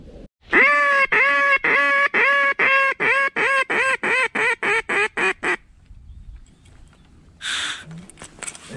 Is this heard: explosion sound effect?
no